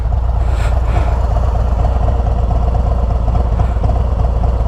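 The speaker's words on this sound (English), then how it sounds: "There's a bit more sort of engine noise, I've noticed." A 2023 Harley-Davidson Road Glide Special with a Screaming Eagle Stage 2 upgrade idles close by, a steady deep engine rumble with light mechanical clatter, no voices.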